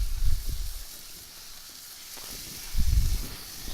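Chicken wings brown on a barbecue grill, giving a soft sizzling hiss with two louder low rumbling swells near the start and end, close by and without talk.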